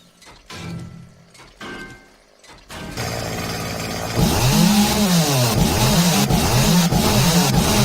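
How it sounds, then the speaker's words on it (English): Chainsaw running in 7 Days to Die, a few sputtering starts followed by a loud, steady motor roar that climbs and wavers in repeated revving swells, close and unbroken with no talk over it. "So you're going crazy with the chainsaw."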